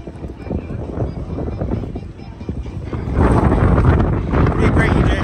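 Wind buffets the microphone outdoors at a track meet, a steady loud rumble that swells stronger toward the end.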